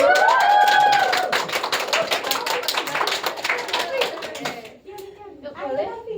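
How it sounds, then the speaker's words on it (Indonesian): Classroom audience clapping to cheer on contestants representing their groups, a dense burst of hand claps that fades after about five seconds, with talking voices continuing at the end. "boleh diberi semangat ya, tepuk tangannya buat yang"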